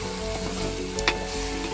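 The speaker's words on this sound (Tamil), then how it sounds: "நல்லா கிளறி விடுவோம்" Tamarind curry sizzles and fries in a pan as it is stirred, a constant close crackling hiss with a brief scrape of the spoon partway through.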